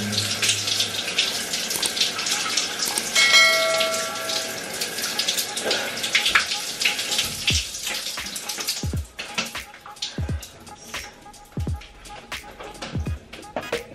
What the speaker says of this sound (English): I'm done having a shower.